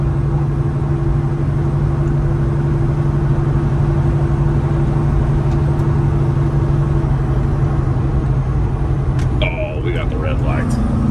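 A stretched Peterbilt 389 truck on its first drive, heard from inside the cab as a steady low engine drone and road rumble that holds constant, with a few faint clicks near the end.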